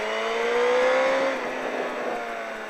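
A motorcycle accelerates out of a corner on a race track during a track day. The engine note climbs in one smooth rising whine, then settles into a steady roar with a hiss of wind, heard at moderate distance.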